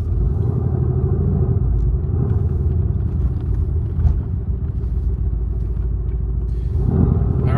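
A Mercedes AMG GTR engine heard from inside while driving, a loud, steady low rumble that holds throughout and swells slightly near the end.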